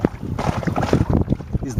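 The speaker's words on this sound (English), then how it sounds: "is the water slapping on the bottom of the boat" Water slapping against the hull bottom of a small outboard-powered boat, a close, continuous choppy splashing with a steady rumble and wind buffeting underneath.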